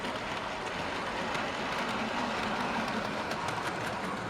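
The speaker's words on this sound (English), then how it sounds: "Let's just send off the freight train." A model freight train runs on a loft railway layout, giving a steady, close rumble with continuous wheel clatter and no talking.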